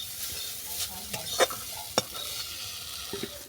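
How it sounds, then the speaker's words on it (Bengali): Moringa flowers pressed down and fried in a kadai, giving a steady close sizzle with sharp scraping and pressing strokes of a spatula breaking through at uneven intervals, no voices. "দেখো সজনা ফুলটাকে আমি ভালো করে চেপে চেপে ভেজে নিয়েছি।"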